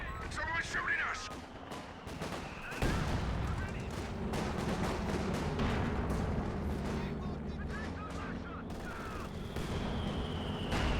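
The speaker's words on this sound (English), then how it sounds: "Someone's shooting us!" Game gunfire from Company of Heroes 2, sporadic shots and bursts running through the whole stretch over dense battle noise, with a heavier onset near three seconds and a commentator talking over it.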